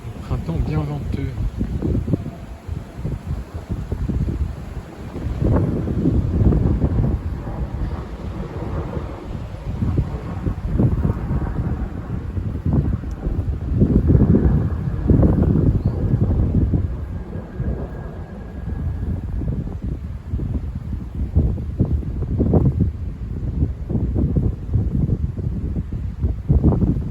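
Strong spring wind gusts topping 80 km/h buffet the microphone in repeated roaring surges that swell and fade over half a minute, with deep rumbling blasts and a constant windy hiss between them.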